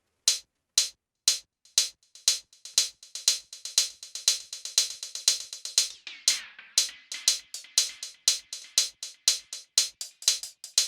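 A simple delay effect in a music production template repeats sharp percussive clicks, with fading echoes trailing each hit in a steady rhythm and thickening into a denser, overlapping pattern partway through.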